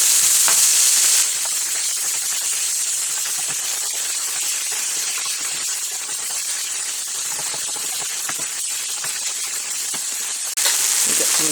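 Frozen peppers hiss loudly and continuously in a hot pan, a dense, close sizzle that holds throughout with no talk.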